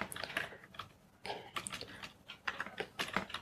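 Typing on a computer keyboard while setting up a thank-you page, quiet close clicks of keys in quick irregular bursts with short pauses, no talking.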